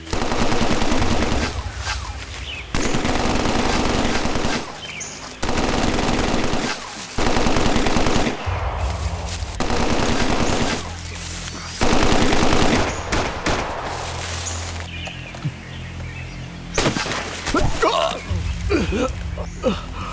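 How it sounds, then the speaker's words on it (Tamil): Machine-gun fire in a dubbed action film: long loud bursts of rapid automatic shots separated by short pauses, ending in a more ragged stretch of scattered shots and noise. "சுடுங்க அவனை."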